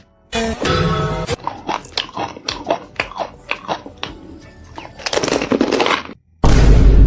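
A man bites and chews raw green chilies, giving a run of sharp, crunchy bites and chewing sounds close to the mic, with louder bursts of noise at the start and end.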